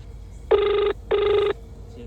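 A telephone rings with two clear, loud electronic bursts separated by a short gap, with nobody answering, over a faint background hum.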